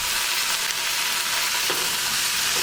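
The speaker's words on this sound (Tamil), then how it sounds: "தக்காளியும் அதே மாதிரி நல்லா வெங்காயம் கூட நல்லா சேர்ந்து வதங்குற மாதிரி ரெண்டும் நல்லா சேரணும், மிக்ஸ் ஆகணும்" Chopped onion and tomato sautéing together in a pan for restaurant-style poori masala: a steady, close, bright sizzle throughout with a faint stirring scrape, no talk.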